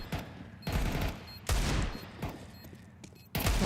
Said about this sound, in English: Apex will grab a Deagle headshot before going to the grave himself